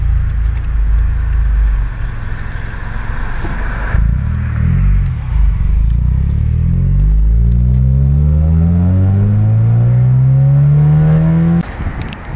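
A loud, throaty 2003 Toyota MR2 Spyder engine with DC Sports headers revs and rumbles up through rising gears, close and continuous, with no voices.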